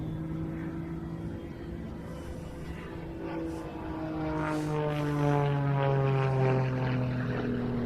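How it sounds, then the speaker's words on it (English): A turbine-powered aircraft flies an aerobatic display at an evening air show festival, its engine roaring continuously with a slowly shifting pitch and swelling louder as it rolls inverted, heard from a distance outdoors. "Now he's just using the power from the turbine to turn the aircraft on its back."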